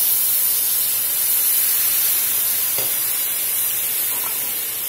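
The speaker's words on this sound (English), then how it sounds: "We're going to deglaze that with some broth." Broth poured into a hot pan of frying country ham, giving a steady, loud hiss and sizzle that runs throughout with no pauses.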